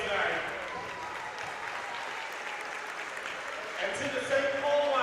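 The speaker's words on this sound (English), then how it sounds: "A big round of applause." Steady applause fills a gym after a high school boys varsity basketball district game, a sustained clapping crowd at moderate distance, swelling slightly louder near the end.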